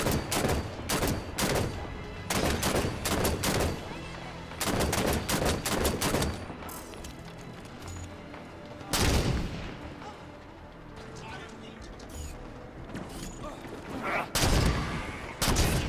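Rapid bursts of gunfire from the video game Halo 5: Guardians, loud repeated volleys with short gaps between them, broken by a few heavier booming blasts.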